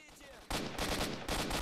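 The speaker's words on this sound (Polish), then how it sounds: "I słychać strzały" Bursts of rapid gunfire from an ambush in the video game S.T.A.L.K.E.R.: Shadow of Chernobyl, loud and close, three heavy volleys after a quieter opening with faint background sounds.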